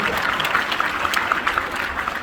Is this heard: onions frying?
no